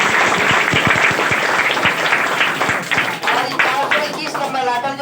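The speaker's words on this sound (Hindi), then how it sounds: "खुशी कुमारी नाम जैसे अनाउंस करेंगे आप तो जोरदार ताली बजाइएगा" A crowd claps loudly for a Class 10 topper student being announced at a school ceremony, a steady burst of applause with sharp individual claps near the start, continuing throughout.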